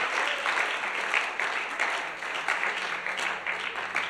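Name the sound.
congregation applauding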